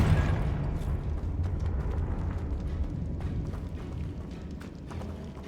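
A Confringo blasting curse bursts in Hogwarts Legacy, a loud rumbling explosion that rolls on as a sustained roar and slowly fades, with no talk over it.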